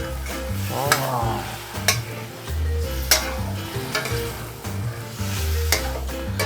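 Lamb frying in a pan while being stirred, with a steady close sizzle broken by repeated clanks and scrapes of a utensil against the pan, and no voices.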